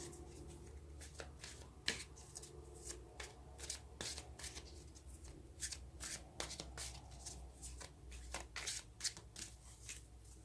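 Tarot cards shuffled by hand in a steady, riffling rhythm of crisp flicks and slaps, close and moderately quiet, with a low hum underneath and no talking.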